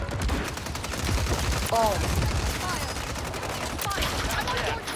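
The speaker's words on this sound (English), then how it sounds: "Who's shooting, bro?" Rapid bursts of gunfire crackle steadily in a Warzone Rebirth Island match, with dense shots running under players' voice chat and a short spoken exclamation.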